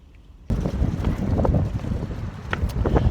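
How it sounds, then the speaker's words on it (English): Gusty outdoor wind roars across the microphone, starting abruptly after a brief quiet moment and then buffeting continuously with low rumbling swells on a blustery day. "it's just a little windy out there today"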